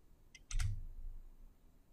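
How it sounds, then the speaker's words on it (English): Computer mouse clicks come through as a few quick, crisp taps close by, quiet against a near-silent background with a faint low thump. "instead of typing in B2, I select the cell B2 with the mouse"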